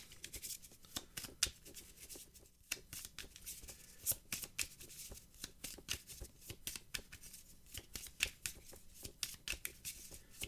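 Magic: The Gathering cards being shuffled by hand in a run of quick, crisp riffles and snaps, close and fairly quiet, with no talking.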